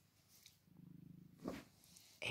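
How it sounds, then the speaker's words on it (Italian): A pet cat purrs while being stroked, a soft, close, steady rhythmic pulsing that runs for about a second before a brief rustle and a sharper noise break in. "e lei fa le fusa"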